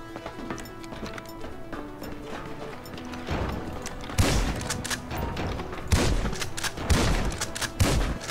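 Gunfire in GTA V Online multiplayer: sharp shots crack out at intervals, louder bursts near 4, 6 and 7 seconds, over a busy game soundscape with music and clattering hoofbeat-like noise.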